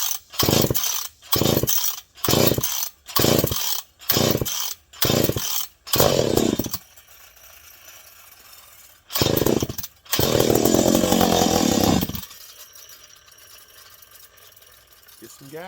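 A McCulloch PM 850 chainsaw with a repaired scored piston is pull-started repeatedly in rhythmic bursts, then catches briefly, coughs once more and runs for about two seconds before dying.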